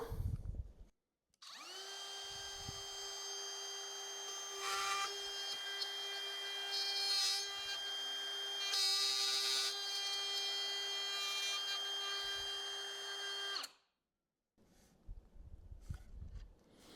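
A power tool fitted with a guide bushing spins up and cuts wood for about twelve seconds, giving a steady high whine with harmonics that shifts in pitch under load, then stops abruptly.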